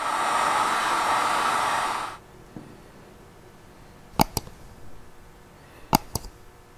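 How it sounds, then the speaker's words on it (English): A heat gun blows with a steady, loud hiss for about two seconds while shrinking tubing over a wire connection on a relay lighting harness, then stops, followed by a few sharp clicks. "we just shrink that tubing run the connection and wire with a heat gun or a really hot hair dryer"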